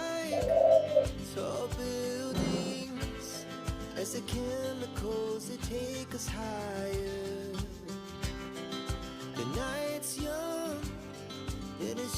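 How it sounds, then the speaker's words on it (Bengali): A dove cooing outdoors, soft low repeated calls heard at a distance under music and other ambient sound. "বাইরে ঘুঘু চলে এসেছে দেখাচ্ছি"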